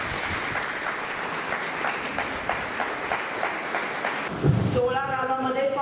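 A village workshop audience claps together for a woman sarpanch, a dense, steady round of applause that stops abruptly near the end as a voice begins speaking.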